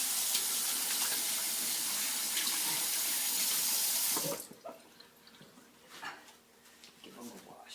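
Tap water pours loudly into a sink as hands are washed before making bannock, a steady rushing stream that cuts off partway through, leaving soft splashes and handling sounds.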